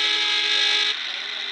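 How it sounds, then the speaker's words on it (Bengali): Horn of a Bangladeshi Hino AK1J bus in a bus video game, a loud, sustained, brassy honk that holds for over a second and then steps slightly lower. "রিয়েল হর্ন বাংলাদেশি একে ওয়ান যে শোনাই তোমাদের"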